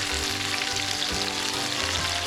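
Swordfish fillets sizzle steadily in a frying pan for a Maltese dish, a dense, continuous frying hiss close up with low bubbling underneath and no voices.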